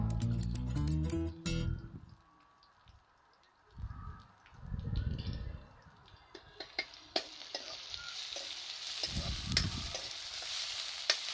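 Pork pieces fry in a hot pan, a close sizzle with stirring and scraping clatter that starts after a brief run of tonal, music-like sounds at the opening.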